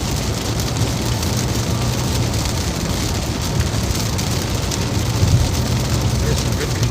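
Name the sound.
hail and thick water droplets hitting a chase truck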